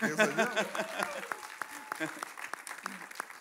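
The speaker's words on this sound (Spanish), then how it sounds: "Eso lleva aplausos." A church congregation claps for a couple celebrating their 21st anniversary. A voice comes first, then scattered, moderately close claps follow in a loose rhythm.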